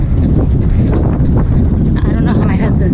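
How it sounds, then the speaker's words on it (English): Gusty wind buffets the microphone during an outdoor long-distance training run, a loud, constant rushing rumble with a voice heard beneath it. "It's windy"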